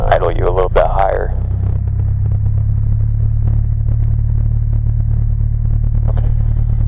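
Aircraft engine idling at raised RPM during a training flight, a steady loud low drone with mid-range clatter running throughout, a voice speaking briefly over it at the start.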